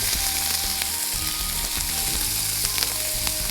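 Turmeric, chili powder and salt fry loudly in a pan for a chicken and almond mince, a dense close sizzle running steadily with faint stirring scrapes.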